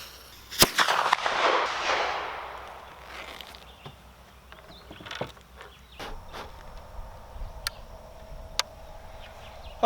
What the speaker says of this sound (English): Let's get it loaded up and take a shot at the 100-yard target now.